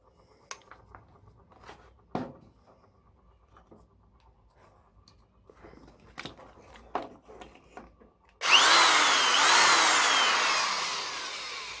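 A Ryobi 100V 210W corded electric drill starts after several seconds of quiet clicks and handling knocks, then runs at a loud, steady high-pitched whine that winds up briefly and holds until the end.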